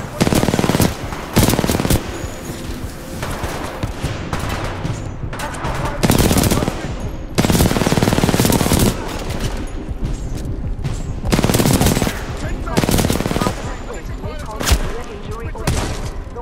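Robot firing a machine gun in Titanfall 2: loud, rapid automatic bursts come repeatedly at close range, separated by shorter pauses, over a dense layer of combat noise, with voices talking between the bursts.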